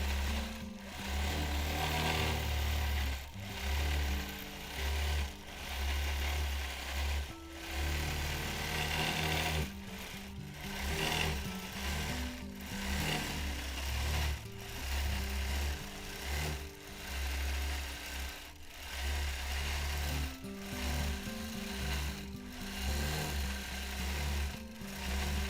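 A sewing machine runs continuously during free-motion quilting of a paisley pattern, its rapid needle hum rising and falling in speed with brief pauses, steady and fairly close throughout.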